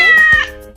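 A single short meow from a stray cat, loud and close, with a tonal beep ringing briefly alongside it.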